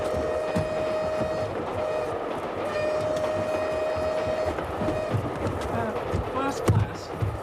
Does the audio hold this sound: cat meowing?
no